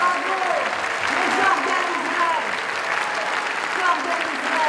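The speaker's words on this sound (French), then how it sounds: "Nous pouvons les applaudir encore." Sustained, loud applause from a big audience at a presidential campaign meeting in Paris, an even wall of clapping with scattered voices beneath it.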